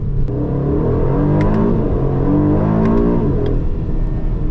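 An Aston Martin DB12 Volante convertible accelerating hard, its engine note climbing through loud, sustained revs with a steady rumble and brief sharp crackles at the top, close and continuous.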